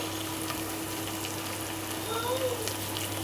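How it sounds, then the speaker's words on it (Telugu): Ginger garlic paste fries in a pan for a chicken curry served with coconut rice, making a soft, continuous sizzle and crackle that stays close and fairly quiet without speech. "అల్లం వెల్లుల్లి పేస్ట్ కూడా ఫ్రై అయిందండి"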